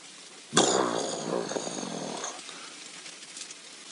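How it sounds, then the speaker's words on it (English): Lions growling on safari in the Mara Triangle, heard as a sudden loud rough burst that rumbles on for about two seconds, then a quieter tail over steady outdoor background. "I don't know if you can hear them growling."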